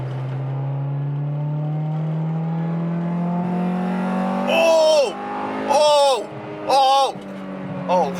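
A Honda Integra GSR with an eBay exhaust climbs steadily in engine pitch as it accelerates in second gear toward VTEC, loud from inside the cabin, before excited voices shout over the engine.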